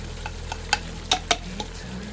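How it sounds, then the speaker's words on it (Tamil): Chicken sizzles steadily in a hot pan as turmeric is added and a utensil stirs it, with several sharp scraping clinks against the metal. "இப்போ நம்ம வந்து மஞ்சள் ஆட் பண்ணிட்டு அப்படி லைட்டாக கிண்டி எடுக்கிறோம்"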